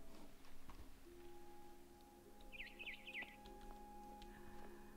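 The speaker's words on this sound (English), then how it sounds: "Then I heard chirping outside my window." A barn swallow outside a window in What Remains of Edith Finch gives a short burst of three or four quick high chirps, faint and distant, over a quiet hum and soft tones.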